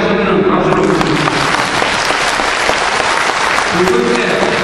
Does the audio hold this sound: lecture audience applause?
yes